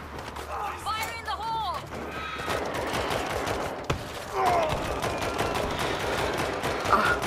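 Steady, fairly quiet gunfire in World War Z multiplayer rattles throughout with a single sharper crack midway, under a voice near the start.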